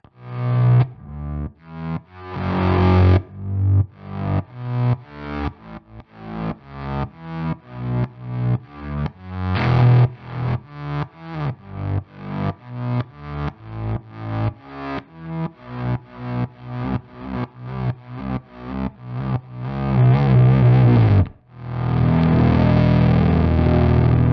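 A heavily distorted synthesizer plays a rapid sequence of short plucked notes, ending with a long sustained buzzy tone.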